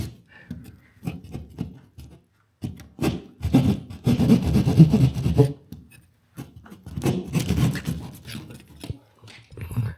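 A hole is cut into a classroom wall beside a seal plate with a hand tool, giving bursts of close, rough scraping and rasping separated by short pauses.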